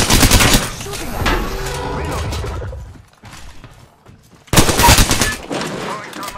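Loud, rapid automatic gunfire from the video game Apex Legends roars in dense bursts. It drops briefly to a quieter stretch before a second heavy burst, with voices talking over the action.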